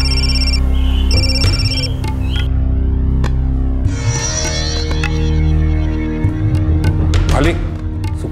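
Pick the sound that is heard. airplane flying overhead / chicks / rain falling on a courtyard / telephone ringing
telephone ringing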